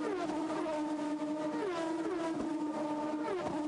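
An IndyCar open-wheel race car's engine, heard onboard at the 2005 Montreal Grand Prix, drones at high revs bouncing against the rev limiter, a steady, buzzing, fairly faint whine with small pitch dips and rises throughout.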